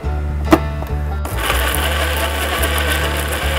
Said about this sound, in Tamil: இது நல்ல ஃபைன் பேஸ்ட்டாக நம்ம இதை அரைச்சிருக்கோம்